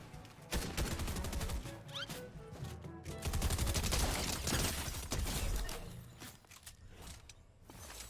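Rapid gunfire in Fortnite Chapter 3 Season 2, with dense volleys and single shots crackling in irregular bursts, mixed with mechanical clicks and footsteps and no talk.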